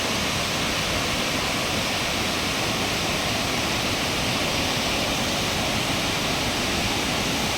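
A loud, unbroken roar of water pours over the Daroji lake dam near Sandur, Ballari, close by, a dense, steady rush with no pauses.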